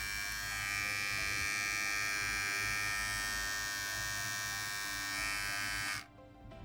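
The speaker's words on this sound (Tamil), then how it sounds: "பிளேடோட சவுண்டு ரொம்ப அதிகமாகவும் இல்லை, ரொம்ப கம்மியாகவும் இல்லை." A Philips 3441 electric trimmer runs close by with a steady, even buzzing whine that holds unchanged for about six seconds, then cuts off abruptly.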